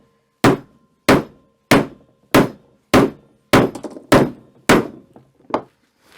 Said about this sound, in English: I want to do a little bit of a hammer test on this